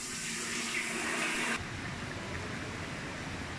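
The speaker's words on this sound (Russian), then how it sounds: "Джакузи с подогревом." Heated jacuzzi in a sanatorium pool hall, water churning and rushing steadily at close range, louder and brighter for the first second and a half, then settling into a softer continuous wash.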